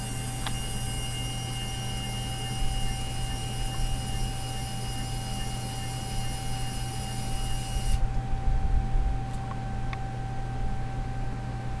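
A Lego NXT motor drives a linear actuator arm outward, a steady whirring drone with faint high whine that shifts partway through, running continuously over a constant electronic hum.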